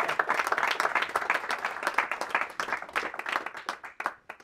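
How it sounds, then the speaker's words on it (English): A small audience at a JavaScript meetup applauds after a tech talk, distinct individual claps forming a lively, uneven patter that thins out toward the end, moderately quiet in a room. "Or an applause first."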